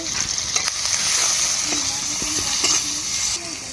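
Bay leaf, dried red chilli, chopped onion, turmeric and salt frying in hot oil for a tilapia curry, producing a loud, steady sizzle with a few brief stirring knocks and a faint voice in the background.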